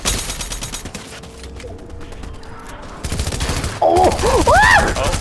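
Video game gunfire crackles in rapid bursts, sharp shots at first, quieter stretches, then louder sustained firing toward the end with a brief voice in the background.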